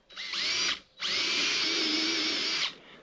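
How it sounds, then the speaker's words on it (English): A power drill pre-drilling holes in fence board wood whirs in two bursts, a short run then a longer steady one, close up and loud with no voices. "Pre-drill your holes"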